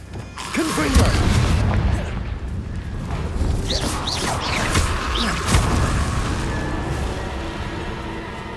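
In the Hogwarts Legacy video game, a Confringo blasting spell erupts in a loud, booming explosion, followed by rumbling crashes, whooshes and chiming magical effects that carry on throughout.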